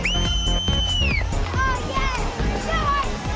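A large outdoor crowd at night around 10 o'clock, noisy and close, with shouting, cheering and a high whistle-like cry over the general din as mounted police move people back.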